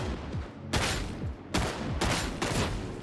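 Slug gunshots from a long-range gun in Warhammer 40k: Darktide, four loud, sharp blasts at irregular intervals over a constant game background.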